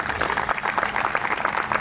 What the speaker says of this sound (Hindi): उनके लिए भी तालियां जोरदार।